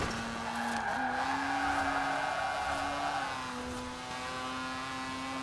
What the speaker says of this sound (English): It's drifting quite a lot.